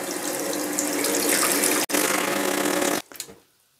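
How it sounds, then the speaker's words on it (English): Tap water gushes steadily into a bathroom basin fitted with a newly installed sink waste, a loud continuous rush with a brief break midway, then cut off and trailing away. "Turn the water on."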